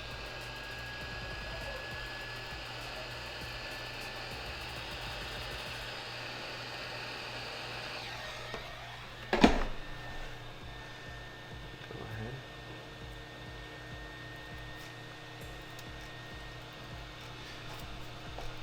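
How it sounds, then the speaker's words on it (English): A heat gun blows steadily on heat-shrink tubing over an earbud cable during a Beats UrBeats jack repair, a continuous airy whir with faint hum, broken by a sharp clunk midway before the blowing continues more quietly. "you take the heat gun, apply heat onto it"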